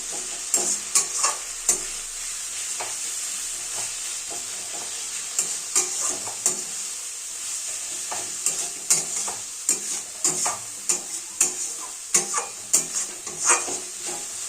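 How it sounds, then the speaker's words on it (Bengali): Spice masala for a chui jhal chicken curry stirred and fried in a pan, with steady close sizzling broken by repeated scraping stirs throughout. "সমস্ত উপকরণ খুব সুন্দরভাবে মিলিয়ে মিশিয়ে নেব এবং ধীরে ধীরে এটা কষতে থাকব"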